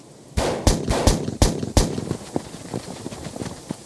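Soldiers' guns fire during a dramatized Filipino aswang story at a mountain hideout. Several loud, sharp shots come in an uneven rapid burst, then fade into scattered fainter shots.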